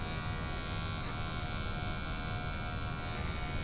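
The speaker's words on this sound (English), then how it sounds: "I have my clipper open, no guard" An electric hair clipper with no guard buzzes steadily while cutting a fade, a constant, fairly soft electric hum that stays level throughout, close by and with no talking.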